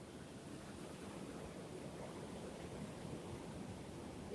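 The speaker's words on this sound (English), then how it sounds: "now this is what we have right now, very windy" Strong wind blowing outdoors, a steady broadband roar that holds at a constant level throughout with no voices.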